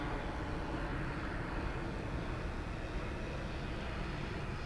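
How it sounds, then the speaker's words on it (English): A regional Embraer 175 LR airliner going around at foggy DFW International Airport, heard as a steady, broad engine roar that holds evenly throughout without pauses, moderately loud and somewhat distant, with no voices. "Our second go-around of the morning."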